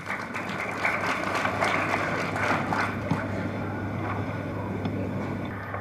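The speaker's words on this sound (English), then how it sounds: "Let us welcome the maestro with a warm round of applause." An audience at a university film festival event in Haridwar, India, applauds a keynote speaker, scattered clapping over a steady low hum and wind-like rumble, moderately loud and continuous.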